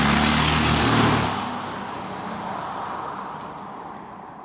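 A 1989 diesel Mercedes W124 with an experimental manifold and open screamer pipe blares loudly for about a second, then the engine note drops away to a lower, steady idle-like rumble.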